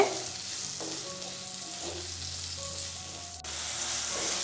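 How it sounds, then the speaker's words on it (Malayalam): Tomatoes sautéing over medium flame in a hot pan for a coconut fish curry, a close, steady sizzle and hiss with soft stirring scrapes throughout, no voices. "അതിനുശേഷം വീണ്ടും നന്നായിട്ടൊന്ന് വയറ്റുകയാണ് തക്കാളിയെല്ലാം നല്ലതുപോലെ ഒന്ന് വഴണ്ട് കിട്ടട്ടെ"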